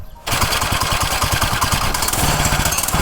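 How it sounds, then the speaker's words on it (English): A minibike's small engine fitted with a homemade Temu muffler runs steadily and loudly after a short quiet start, with a rapid, even chugging exhaust pulse close by. "Now my engine is louder than my exhaust."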